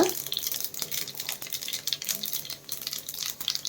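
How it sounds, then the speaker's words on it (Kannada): Mustard seeds and cumin crackle in hot oil for an egg roast side dish, producing dense, close sizzling with irregular small pops. "ಈಗ ಸಾಸಿವೆ ಚಟಪಟ ಅಂತ ಇದೆ ಈಗ ಜೀರಿಗೆ ಹಾಕ್ಕೊಳ್ಳೋಣ"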